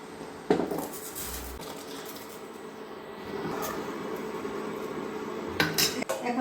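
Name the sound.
taro stems added to boiling water in pot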